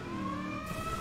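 A car siren in the racing video game Burnout Paradise Remastered, styled after the Ghostbusters car siren, wails steadily and loudly as a sustained tone.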